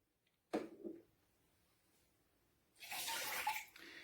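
Water splashes and gushes out of a leaking Krups Nespresso Inissia capsule espresso machine, with a short splash burst early on and then a louder, hissing rush of water near the end. No one speaks.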